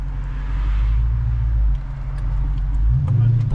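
A Dodge Hellcat Redeye Jailbreak engine rumbles with a deep, steady low drone close by, its pitch shifting slightly toward the end, while a voice speaks faintly over it.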